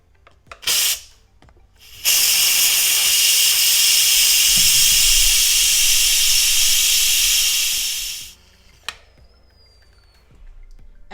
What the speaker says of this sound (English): you will flip the pressure valve to venting to release the pressure of the Instant Pot